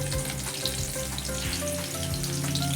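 Batter-coated prawns deep fry in hot oil with a dense, steady sizzle and bubbling that runs throughout, loud and close, with a few light stirring knocks and no voice.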